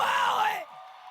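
A loud burst of crowd yelling and cheering that cuts off sharply after about half a second, leaving a faint hiss.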